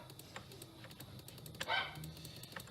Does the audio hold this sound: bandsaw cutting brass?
no